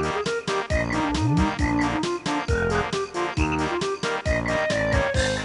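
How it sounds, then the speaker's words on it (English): Rhythmic frog croaks form the beat of a gloopy swamp music piece from a Nintendo 64 game, loud repeated croaks pulsing steadily under synthesized melody and bending tones. "a gloopy swamp piece that has a beat of frogs."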